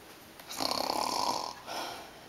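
A storyteller's voice imitates a little kitten snoring in the hay, giving two breathy snore sounds, a longer one followed by a shorter one, close and alone.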